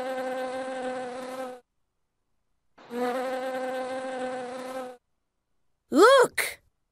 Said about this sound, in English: Look, a bee.